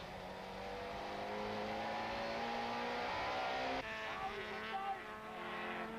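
A BMW super touring race car at the 1995 South African championship round at Aldo Scribante, heard from an onboard camera: a loud, steady high-revving engine drone that climbs in pitch, with a gear change partway through.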